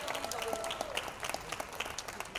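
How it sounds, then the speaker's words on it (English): Audience applause during a makeup-artist interview segment, a steady crackle of many hands clapping at moderate distance with no one speaking over it. "A big round of applause."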